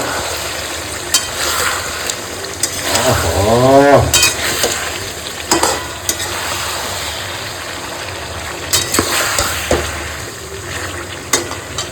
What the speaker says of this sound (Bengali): এবার আমি দিয়ে দেবো ভাজা আলুগুলো দিয়ে একটু ভালো করে কষাবো